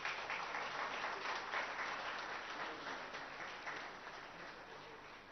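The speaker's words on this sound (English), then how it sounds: "Let's welcome the Honorable Minister with a big round of applause." An audience at the opening ceremony of a Microchip Technology facility in Telangana gives a sustained round of applause for the minister, a dense crackle of many hands that slowly fades.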